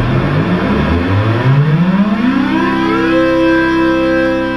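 Loud Memorymoog synthesizer tones in polyphonic mode with long glide slide downward in pitch, several layered notes sliding together and then settling into a sustained chord; no voices.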